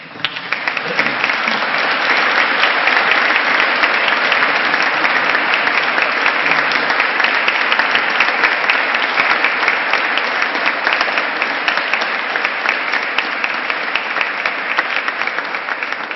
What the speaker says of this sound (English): I need to earn that applause.